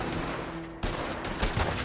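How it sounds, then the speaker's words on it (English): A double-barreled shotgun in Red Dead Redemption 2 fires a single loud, sharp blast, with a steady game background underneath. "Wir haben doppelläufige Shotgun."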